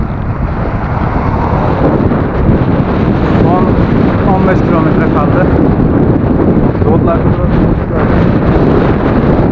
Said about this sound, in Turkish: az bir önümüz çok rüzgarlı